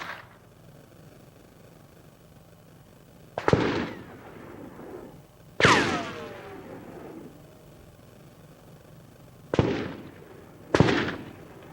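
Four sharp gunshots from rifles and pistols crack out at irregular intervals, each trailing off in a rolling echo, heard from a moderate distance over a steady outdoor background.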